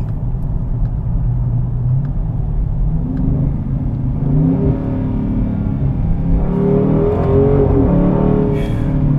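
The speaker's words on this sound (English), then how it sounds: "That exhaust is crazy." A deep, rumbling 2021 Dodge Charger Scat Pack exhaust idles steadily, then swells into a throaty rev that builds toward the end, loud and close.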